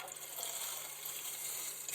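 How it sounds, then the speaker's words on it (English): Water flowing from a hose into a heater core flush setup on a 2006 Pontiac Grand Prix with no heat, a steady, close hissing rush that stays even for two seconds. "fill this up with some water."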